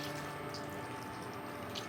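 Canned diced tomatoes and a splash of chicken broth pour into a cooking pot, a close, wet, continuous sloshing and splattering without talk.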